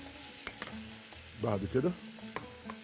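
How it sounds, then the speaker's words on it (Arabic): Garlic frying in a pan for a Mexican beef and shrimp fajita, a faint steady sizzle with scattered utensil taps and a brief burst of stirring clatter, a few words spoken over it. "انزل بقى الاول بالثوم"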